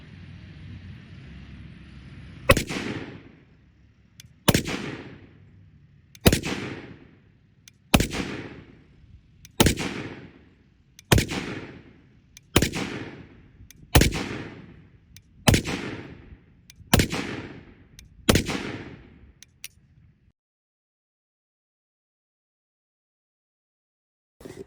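Ten loud 7.62x51mm NATO rifle shots strike a Beehive Barrier outdoors, evenly spaced about two seconds apart, each a sharp crack with a decaying echo, followed by silence.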